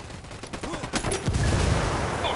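An M249 machine gun fires a short burst in a combat video game. The shots crackle and ring at moderate distance and are heard alone.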